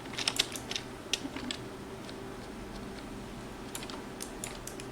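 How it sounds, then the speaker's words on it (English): Computer keyboard typing and mouse clicks picked up by a microphone during a gaming session, with scattered clusters of light clicks and taps, fairly quiet over a steady background hum. "the fucking mic just records my sounds on like the mouse and the keyboard"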